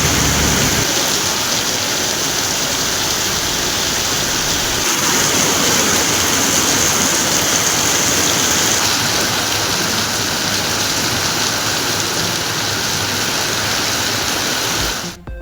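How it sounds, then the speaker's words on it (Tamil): Heavy rain falls across Tamil Nadu in a dense, loud, continuous hiss of drops striking surfaces, steady for the full stretch before cutting off abruptly at the end, with no voices. "தமிழ்நாட்டில் பல்வேறு இடங்களில் பரவலாக மழை."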